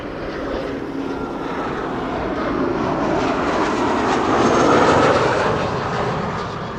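An Embraer 190 jet at Amsterdam Schiphol airport produces a loud, steady engine roar that swells gradually toward a peak near the end, heard close and without talk.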